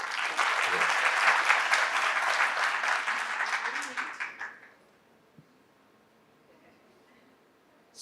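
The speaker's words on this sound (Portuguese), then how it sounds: "Uma salva de palmas." Audience applause at a regulatory affairs session of the Hospitalar event, a loud, dense burst of clapping that carries steadily for about four seconds, then tapers and stops, leaving near silence.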